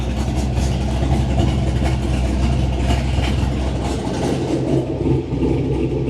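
A muscle car with its exhaust cutouts open idles loud and close, a deep steady rumble with slight pulsing and no talk over it.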